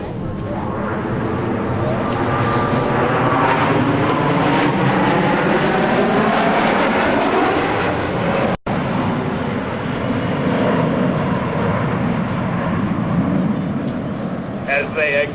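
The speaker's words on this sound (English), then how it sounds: "The power is eased as the aircraft round out the backside of this looping maneuver." Blue Angels jets at an air show round out the back of a loop with power eased, producing a loud, sustained, broad roar with swirling sweeps that shift as the aircraft pass.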